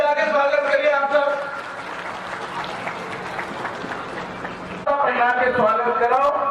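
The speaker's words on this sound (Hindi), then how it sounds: "ताली बजा के स्वागत करिए आप सब।" Audience clapping to welcome Congress party leaders at a rally camp in Arang, a dense burst of applause in the middle framed by loud amplified voices before and after.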